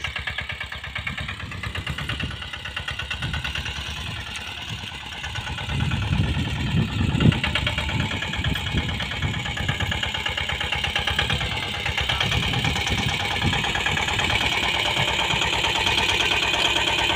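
An Agri Master farm tractor idles with a steady, mid-pitched engine drone that grows a little louder partway through and keeps going without a break.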